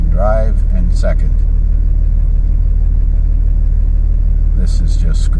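2004 Dodge Ram with the 5.9 Cummins diesel idling in drive inside a shop while its transmission shifts erratically, a loud steady low rumble with someone talking over it.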